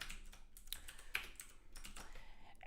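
Code being typed on a computer keyboard, a quick irregular run of soft, close key clicks and taps, faint and uninterrupted by speech.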